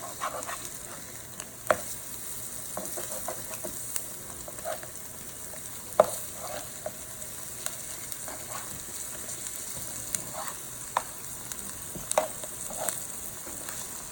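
Tofu fries in a pan of olive and avocado oil with a steady, close sizzle, broken by scattered clicks and taps as the pieces are flipped over.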